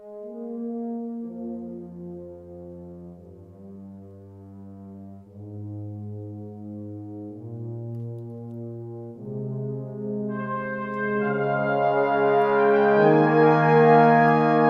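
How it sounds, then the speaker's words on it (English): An orchestral brass section from the Spitfire Audio BBCSO Discover sample library holds sustained chords. Low brass starts the passage, then trumpets enter and the sound swells louder and brighter over about fifteen seconds. "So let's listen to all of this together, all the brass together. And these are from Discover."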